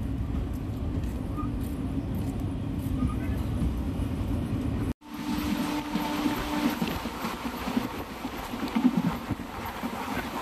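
The Tirupati Intercity Express rolls into Pakala railway station with a steady low rumble and rushing wind noise, dropping out briefly midway before the heavy running sound resumes.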